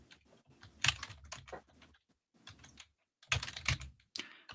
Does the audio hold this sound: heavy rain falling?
no